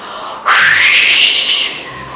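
Children blowing hard to imitate a ferocious wind, a sudden breathy whoosh that starts abruptly, holds steady and loud for over a second, then fades away.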